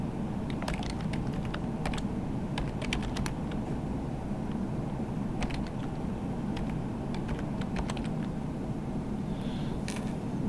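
Light, scattered keystrokes on a computer keyboard entering a product description into inventory stock-setup software, irregular taps in short bursts over a steady low room hum, with no talking.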